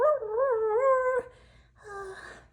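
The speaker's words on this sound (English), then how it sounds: "A coyote howled in the distance." A coyote lets out a wavering, drawn-out howl followed by a shorter, fainter second cry after a brief pause, heard clearly against quiet.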